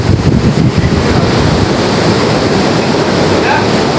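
Sea waves and wind on the shore beside a coastal fair, a loud, steady rushing roar of surf with heavy wind buffeting the microphone, continuous and close with no talking.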